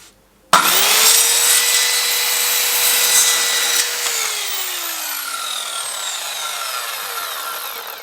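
A power saw cuts through wood paneling inside a van: a sharp whine bursts in at full loudness, holds steady for a few seconds, then falls in pitch and fades away as the blade spins down.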